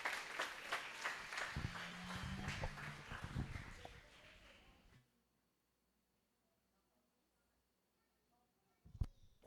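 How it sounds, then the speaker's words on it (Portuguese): A church congregation applauds together, a dense burst of clapping for about five seconds that then stops abruptly, leaving near silence before a brief loud knock at the end. "vamos dar um aplauso ao Senhor Jesus pela vida dos irmãos que compartilharam aí"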